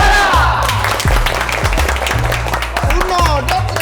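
Applause from an audience at a community gathering in Simeulue, a loud, continuous wash of clapping with crowd noise, shouts and music mixed in throughout.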